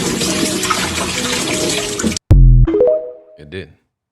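Water poured steadily into glass jars, a dense continuous splashing rush lasting about two seconds that cuts off abruptly, followed by a brief burst of voice.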